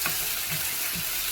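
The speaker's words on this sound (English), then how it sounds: "You see it's frozen, so I need to fry it a little bit." Frozen vegetables frying in a pan for turmeric cauliflower rice, a soft continuous sizzle with a few faint stirring knocks, fairly quiet and close.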